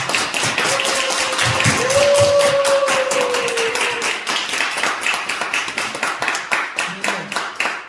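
A church congregation at a Sunday worship service claps in a loud, steady unison rhythm, crisp repeated hand claps continuing throughout while a voice and a sustained musical tone sound briefly underneath.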